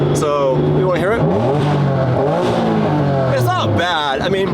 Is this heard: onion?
no